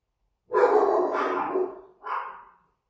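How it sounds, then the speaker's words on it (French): A pet dog gives a loud, close bark drawn into a long rough howl-like bark, then a second shorter bark after a brief pause, with no talk over it. "Bon, là, il commence à me gonfler, mon chien,"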